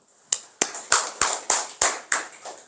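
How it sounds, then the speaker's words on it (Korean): Students in a Korean calculus class clap in seven sharp, evenly spaced bursts, close and loud, each a quick crisp smack with a short decay. "야, 박수."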